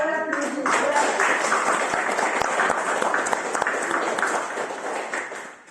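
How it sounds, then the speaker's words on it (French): A church congregation applauds, a dense patter of clapping that swells early and holds, then fades toward the end, with a voice briefly at the start. "Alors on l'applaudit."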